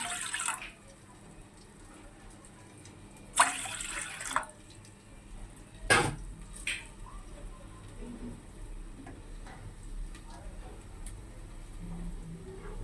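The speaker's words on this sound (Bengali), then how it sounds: "1 কাপের মতন জল দিয়ে দিচ্ছি" About a cup of water poured into a pan to start sugar syrup for balushahi: short splashing pours and trickles against a quiet kitchen background, with faint voice-like sounds in between.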